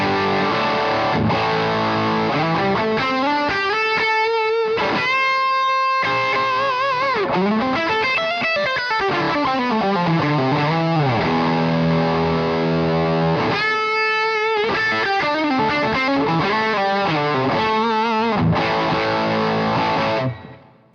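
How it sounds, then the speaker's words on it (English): Electric guitar played through an Angry Driver distortion pedal, sustained overdriven chords and bends with sliding pitch, loud and close, ringing out alone before cutting off at the end. "let's go over to the distortion pedal, which is the Angry Driver."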